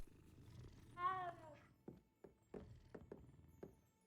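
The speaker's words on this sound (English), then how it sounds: "Been my mission to stroke all the pretty cats." A cat in the video game Hogwarts Legacy gives a short, faint vocal purr-like trill, followed by soft scattered footstep-like taps over a quiet background.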